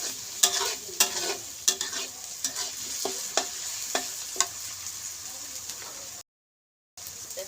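Curry paste being stir-fried in a pan for a spicy pangasius fish stir-fry with young peppercorns: a close, steady sizzle punctuated by regular sharp spatula scrapes, briefly cut to silence near the end.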